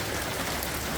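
Rain falls outdoors on a trip from Cusco to Aguas Calientes in Peru, a dense, loud, unbroken hiss of drops striking surfaces close by, with no speech.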